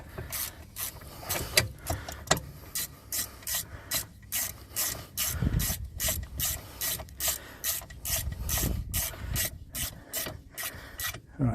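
Ratchet wrench tightening brake caliper bolts on a Skoda Superb Mk3 during a rear brake pad change, a steady run of quick, close rasping clicks repeating throughout, with occasional low thumps.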